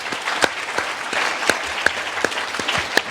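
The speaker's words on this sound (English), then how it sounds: "If you can give the applause here to the panelists" A conference audience at the World Economic Forum's Annual Meeting of the New Champions applauds panelists, a full, sustained round of clapping with a few louder individual claps popping out over three seconds.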